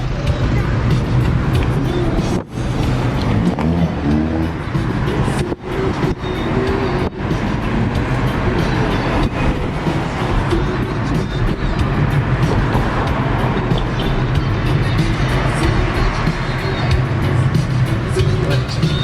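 A Suzuki car drives along a road in Barbados, a loud, continuous engine and road rumble from inside the vehicle that holds steady throughout, with a few brief dips.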